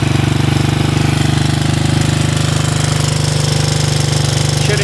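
A 1984 Honda TRX200 ATV engine idles steadily and loudly with a rapid, even chugging pulse throughout, no voices over it.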